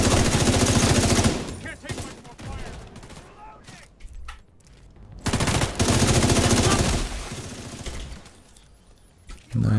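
Automatic weapon fire in The Division 2 shooter, loud sustained bursts separated by a quieter lull, then another long rattling volley, with brief voices mixed in.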